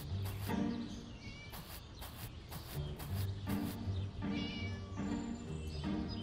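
A cat meows repeatedly in the Scary Teacher 3D video game, with a string of short cries over continuous game music and background sound.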